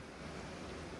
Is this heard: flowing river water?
yes